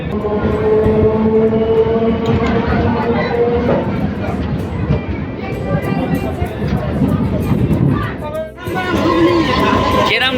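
Rumbling, rattling train ride at Kakdwip station on the way from Kolkata to Namkhana, with continuous clatter of the carriage, and people chatting and talking throughout over the noise.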